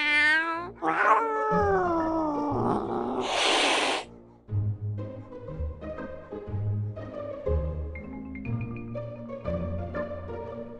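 A cartoonish cat in the iOS game Scott Whiskers lets out a long, sliding meow that rises into a caterwaul over the first four seconds, then gives way to bouncy game music with short tonal notes.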